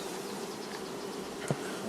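Steady, dense insect buzzing of honey bees near a hive after the main honey flow, continuous throughout with a brief louder burst near the end.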